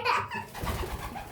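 A pigeon coos up close in a single soft, low, throaty burble that lasts about a second, with no voices over it.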